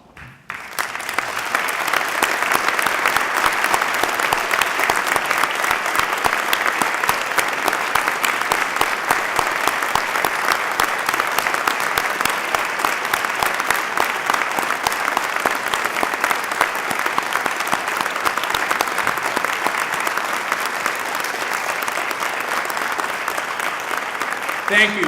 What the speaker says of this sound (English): I will ask that all Korean War veterans please rise for our applause